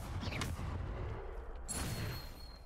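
A Depulso force spell bursts out in Hogwarts Legacy combat, a single muffled blast-like whoosh over low rumbling background, followed by a brighter ringing shimmer.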